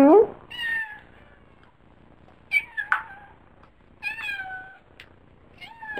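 A pet cat meows several times in short, rising-and-falling calls, close and clear, spread across a few seconds with quiet gaps between them.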